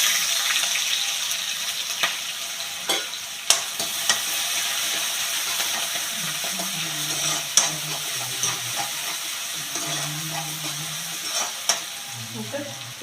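Onion and ginger frying in hot oil in a pan for vegetable semiya upma, a continuous close sizzle with occasional spoon scrapes and a few faint background sounds.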